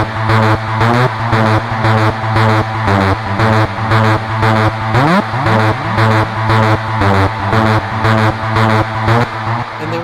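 A Citrus synth mid-bass in an electronic track, driving in a steady rhythmic pattern of loud repeated hits with pitch bends that dip and sweep back up an octave, filling the mix without voices.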